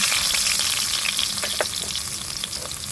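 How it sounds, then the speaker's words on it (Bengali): Pangas fish pieces fry in oil in a wok, a dense, steady sizzle with crackling spatters and a few sharper pops, close and loud throughout with no talking. "আমি মাছের টুকরাগুলোকে একটু একটু করে ভেজে নেব।"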